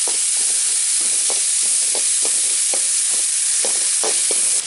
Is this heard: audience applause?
no